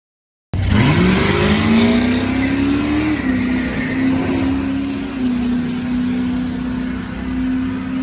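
A 2018 Honda Accord EX-L with a 2-liter engine accelerates hard, its engine note rising steadily and then holding a loud, sustained drone close to the microphone.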